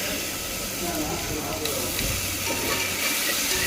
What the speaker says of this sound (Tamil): வெங்காயம் போட்டுக்கலாம். இஞ்சி பூண்டு போட்டு வதக்கிக்கலாம்.